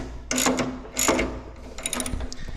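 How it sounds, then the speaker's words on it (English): A hand ratchet clicks in short bursts while removing the AFM exhaust valves from a C8 Corvette, with two quick clusters of close metallic ticking and a lighter burst near the end. "now I have to take off these AFM valves"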